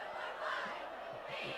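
Spartan home crowd roaring at a 2018 high school football game between Mountain Brook and Spain Park, a dense, steady wall of cheering and shouting from a large stadium audience that holds constant for the whole moment.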